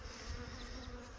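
Bees drone steadily around an open hive in winter, a continuous close buzzing at low level with no break.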